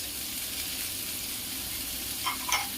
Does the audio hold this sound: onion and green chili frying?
yes